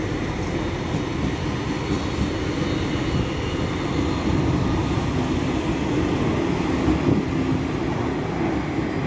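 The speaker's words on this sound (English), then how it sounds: "And there is a Lufthansa A320 off to Germany." A Lufthansa Airbus A320 takes off from Manchester Airport, a broad sustained jet roar mixed with rail rumble nearby, loud and steady throughout without any talk.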